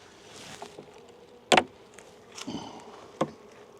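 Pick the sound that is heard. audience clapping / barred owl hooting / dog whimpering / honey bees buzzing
honey bees buzzing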